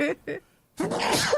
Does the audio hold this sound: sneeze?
yes